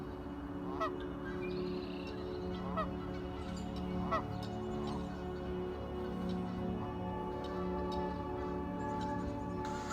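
Wild geese honk in repeated calls at a distance over a steady outdoor background, in a region where populations number in the millions.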